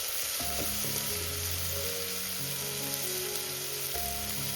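Spices sizzle and crackle steadily in hot oil on a wood-fired village stove, a continuous bright frying hiss with occasional stirring, no voices.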